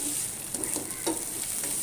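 Almonds frying in oil in a pulao pan, a close steady sizzle broken by a few brief stirring scrapes, with no talking.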